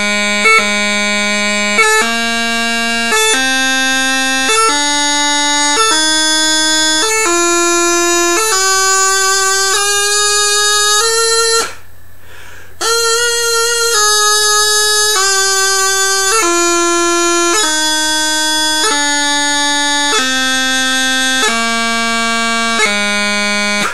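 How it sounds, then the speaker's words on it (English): Bagpipe chanter runs up and down the scale with crisp high G grace notes before each melody note, loud and close, with a brief pause partway through before the sequence continues. "high G grace notes going up and down the scale, it's going to sound like this"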